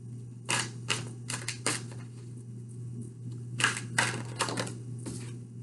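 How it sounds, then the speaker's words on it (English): Large tarot cards are shuffled by hand in bursts of papery riffling and slapping, close and fairly quiet, in two clusters with a pause between, over a low steady hum. "I'm having a hard time shuffling these big cards today."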